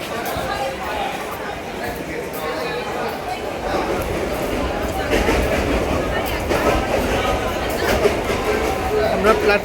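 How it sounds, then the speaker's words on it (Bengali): A busy railway platform where the Kolkata–Haldibari Superfast stands waiting: a steady wash of crowd chatter and station rumble, with voices talking throughout and no clear train movement. "আমরা প্ল্যাটফর্মে ঢুকে পড়েছি, আমাদের ট্রেনও দিয়ে দিয়েছে"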